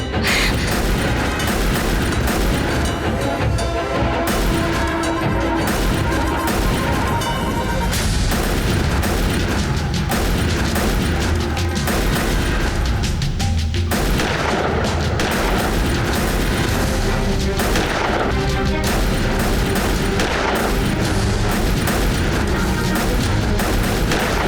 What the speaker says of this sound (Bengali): পুলিশদের দিকে গুলি চালা।